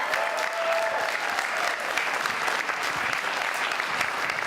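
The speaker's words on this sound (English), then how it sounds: "let's give a big round of applause for President" Steady audience applause fills the hall for the president of Champlain College at an elevator pitch competition, a dense, even wash of clapping held at constant level with no voices rising above it.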